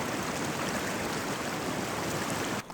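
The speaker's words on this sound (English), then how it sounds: "The water is flowing pretty fast and deep." Fast, deep stream water rushing through a channel after heavy rain on a coastal hiking track, a steady broadband roar that stays loud and close without a break and drops away sharply near the end.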